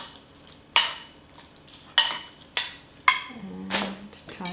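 Nine-grain porridge ingredients are mixed in a bowl with a spoon, giving five separate clinks and scrapes spaced about a second apart over a quiet background.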